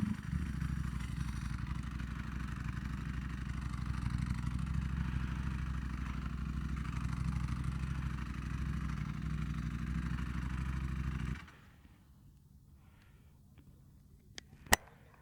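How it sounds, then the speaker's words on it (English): Ducati Panigale V4R idling with its dry clutch rattling, a steady close rumble that holds for about eleven seconds and then cuts off, leaving near-silence with one faint click. "Is the rattling sound, is it the clutch? The dry clutch."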